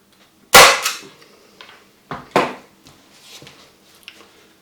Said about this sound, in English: one more staple there